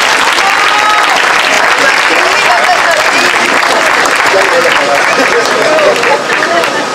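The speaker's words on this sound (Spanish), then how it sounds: "Yo quiero pedir un fuerte aplauso" A large crowd at a Morena political rally in San Pedro Xalpa, Azcapotzalco, applauds loudly and continuously, with cheering voices and shouts mixed into the dense, close clapping.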